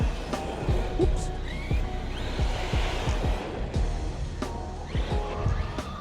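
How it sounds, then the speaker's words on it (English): An Arrma Kraton 6S V5 RC car drifts across the ground with repeated gritty tire scrapes and short whines of its electric motor, sounding moderately close with outdoor background noise. "I like to drift it."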